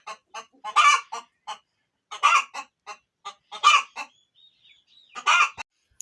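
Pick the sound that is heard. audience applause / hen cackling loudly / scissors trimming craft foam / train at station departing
hen cackling loudly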